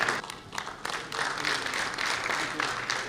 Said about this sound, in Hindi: तालियों से इन नवोन्मेषी किसानों पर